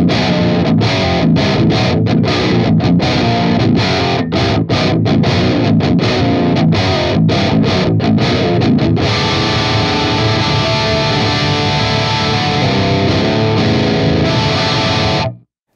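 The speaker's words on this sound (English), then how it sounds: "I want to go with the Fryette D60 MORE." Heavily distorted metal guitar played through a stock Fryette D60 amp model on an Axe-Fx III, with tight palm-muted chugs and stops for the first half, then a sustained, ringing chord held loud until an abrupt cut.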